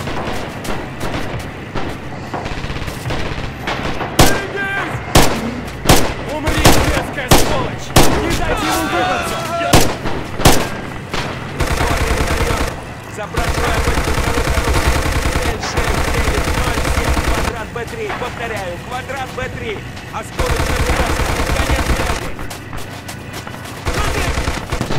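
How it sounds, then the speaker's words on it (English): Artillery shells fall and explode in a Heroes of Stalingrad battle at the Red October factory, a rapid string of loud blasts and gunfire bursts followed by sustained heavy rumbling barrages. "Artillery will fall behind you."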